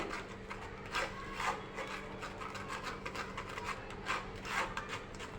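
Homemade tomato ketchup mixture being pressed and rubbed through a sieve, giving soft repeated scraping strokes in a quiet kitchen, close and faint, with no talking.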